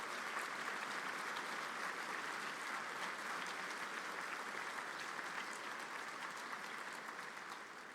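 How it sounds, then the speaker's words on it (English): An audience at a Class of 2022 graduation ceremony applauds the educators in a long, sustained wash of clapping that stays loud and even, fading slightly at the end. "please, everyone, stand up here if you're an educator, and give them a round of applause, too"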